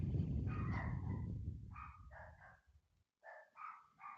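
Several dogs bark in short, repeated yips and bow-wows at a moderate distance, with a brief pause between volleys and low rumbling underneath.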